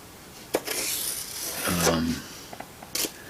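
A blade cuts a line through foam sheet for a homemade glider's horizontal stabilizer, giving a brief scratchy rasp with a few small knocks and taps around it, close up and fairly quiet.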